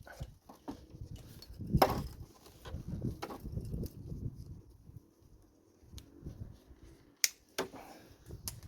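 Old parts being cut off a budget 2002 Yamaha Fazer FZS600 motorcycle: a few sharp, close snipping clicks scattered over quiet, low handling noise.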